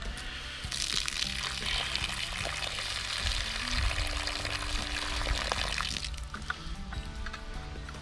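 Water pours steadily from a hose or pipe at a homemade 160 deep drilled well, a loud continuous splashing gush that thins out and changes near the end.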